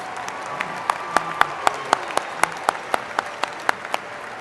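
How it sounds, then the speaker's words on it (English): Commencement crowd in a large hall applauding degree recipients at a West Virginia University agriculture, natural resources and design ceremony: a steady wash of many hands clapping, with a few louder individual claps standing out at a regular pace. "Could we please have a round of applause for all degree recipients?"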